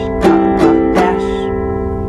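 Three quick down strums on a ukulele in a short uneven Morse code rhythm, the last chord left ringing and fading out.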